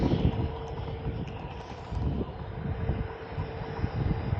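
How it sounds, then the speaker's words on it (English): Airbus A321neo airliner bound for Antalya, registration G-SUNH, at Manchester Airport: a steady, moderate jet engine roar with wind buffeting the microphone, continuous throughout without voices. "As I said, she's a Airbus A321 Neo."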